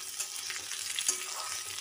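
Potato, pumpkin, pointed gourd and papaya pieces fry together in hot oil, a steady close sizzle with a few soft stirring scrapes and one brief clink, no voices.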